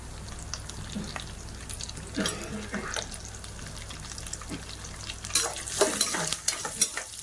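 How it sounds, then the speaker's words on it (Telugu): Ingredients and raisins frying in a pan for carrot halwa, a soft ongoing sizzle with intermittent scrapes and clatter of stirring, louder bursts near the end. "ఈ ఫ్రై అవుతూ ఉంటాయండి"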